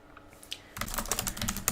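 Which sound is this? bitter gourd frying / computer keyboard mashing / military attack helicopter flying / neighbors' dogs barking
computer keyboard mashing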